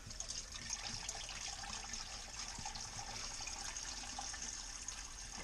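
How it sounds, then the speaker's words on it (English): Water splashed into an engine's drain plug hole during winterizing, a quiet, steady trickling and splashing wash of liquid heard close and alone throughout. "I'm just going to splash a little bit in there to just wash any of the water back down through the hole in the bottom."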